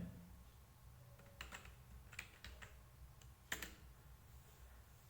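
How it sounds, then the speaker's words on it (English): Soft keyboard typing, a few scattered key clicks close by in a quiet room. "I am typing name."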